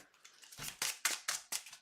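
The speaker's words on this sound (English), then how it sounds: "I'm going to shuffle our deck, go back to 9," A deck of cards is shuffled, with soft rhythmic riffling snaps repeating about five times, quiet and close with no talk.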